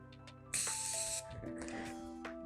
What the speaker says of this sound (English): I'm gonna spray it on my sponge.